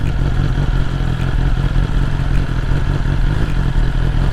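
A 2021 BMW S1000R Sport motorcycle engine runs in first gear at low speed, a loud, steady, close engine drone with a rough clattering texture and no voices.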